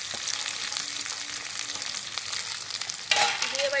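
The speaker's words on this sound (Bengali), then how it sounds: "দিয়ে এবার একটু ভাজতে দেবো।" Onion and capsicum fry for veg manchurian in a home kitchen, a steady broad sizzle with stirring scrapes, growing louder and brighter near the end as more oil spits.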